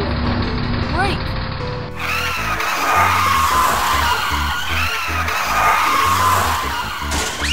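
A cartoon road roller brakes hard and skids, with a loud sustained tire squeal over a rhythmic rumbling engine and background music.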